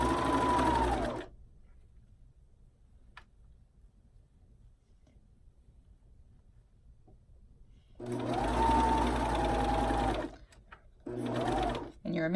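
A sewing machine stitches a bikini seam with elastic in two short loud bursts separated by a quiet pause, close up.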